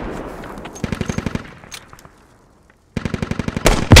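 Video game gunfire in two bursts: a fast automatic rattle of evenly spaced shots that fades into distant echo and a near-silent pause, then a second loud rapid burst ending in heavy, close blasts.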